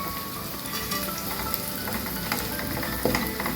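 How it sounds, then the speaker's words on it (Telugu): Onions and spices sizzle steadily in a pan over a medium flame, a dense, even frying hiss that holds through the whole stretch, with a brief louder stir-like crackle near the end. "మీడియం ఫ్లేమ్లో పెట్టి ఇలాగా వేయించుకోవాలండి"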